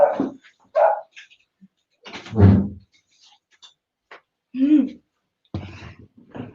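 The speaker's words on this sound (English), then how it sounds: "The beautiful joys of working from home when you have 3 dogs." Several dogs in a house let out short, separate barks and yelps in bursts across the span, loud and close, with brief gaps of quiet between them.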